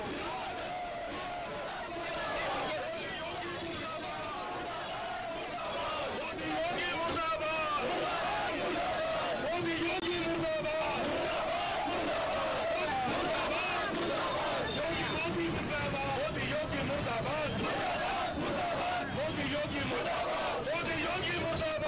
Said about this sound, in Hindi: प्रियंका का पोस्टर लेकर प्रियंका को रिहा करो के नारे लगाए हैं